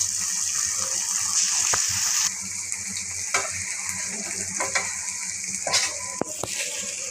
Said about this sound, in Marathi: वांगे थोडे परतून घेऊया. त्याला मसाल्याचं काम परतून घेऊया.